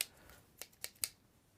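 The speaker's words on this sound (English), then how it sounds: "So in Europe, we saw them using kitchen scissors." Simple kitchen scissors snip through a pizza in a few quick, crisp cuts, three or four sharp snaps spaced about a fifth of a second apart, close and fairly quiet.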